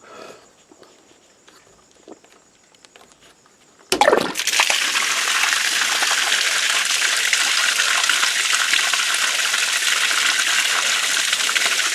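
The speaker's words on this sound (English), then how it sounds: "all I have to do is put a fitting in here, connect the hose to that, and open the valve" Grey water gushes through a freshly opened valve from a 60-gallon barrel hung under a skoolie bus. A sudden loud, steady rushing starts after a few quiet seconds with faint handling noises, then pours on continuously.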